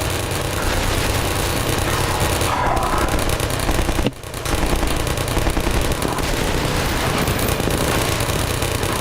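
Automatic turret gunfire in Half-Life, a dense, continuous rattling stream of shots that fills the whole stretch, with a brief break near the middle before it resumes just as loud.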